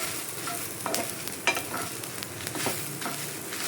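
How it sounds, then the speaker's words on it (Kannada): Ten dried red chillies fry in a pan for a Mangalore-style egg curry, a close, continuous crackling sizzle broken by light scraping stir strokes and occasional sharper pops. "ಇವಾಗ ಇದನ್ನು ಚೆನ್ನಾಗಿ ಫ್ರೈ ಮಾಡ್ಕೊಳ್ಳೋಣ."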